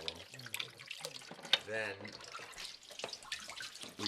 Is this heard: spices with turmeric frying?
no